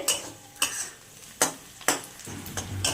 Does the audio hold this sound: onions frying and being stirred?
yes